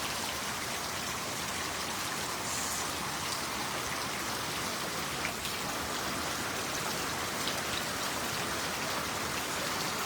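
Steady rain pours down on a farm in the evening, a dense, even hiss of drops on surfaces with no break and no voices.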